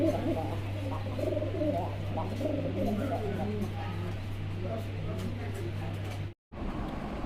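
Pigeons coo at a wholesale pigeon dealer's loft, soft repeated calls under continuous talk and a steady low hum, with a brief dropout near the end.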